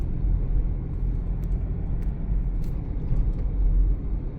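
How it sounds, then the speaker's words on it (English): Interior road noise from a 2004 Toyota Highlander V6 4WD driving over bumps: a steady low rumble with a few brief soft thumps and knocks, no voices. "Ride's good, goes over the bumps nice."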